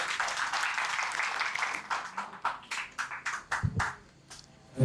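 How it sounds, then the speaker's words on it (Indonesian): Audience applause for Bang Dawi at a Borobudur Vesak retreat session, starting as steady dense clapping, then thinning into scattered separate claps before fading out. "Kita tepuk tangan dulu buat Bang Dawi."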